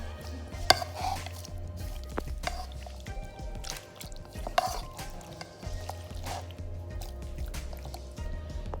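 Marinated chicken fajita ingredients are mixed in a bowl, with close, soft squishing and stirring and occasional small clinks over a low background hum.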